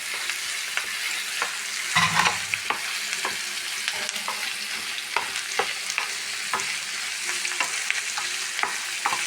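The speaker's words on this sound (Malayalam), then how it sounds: "നന്നായി വഴറ്റാം" Onions sautéing with salt in a pan for an egg dish, a steady close sizzle broken by irregular scraping stirs and a louder clatter early on, with no voices.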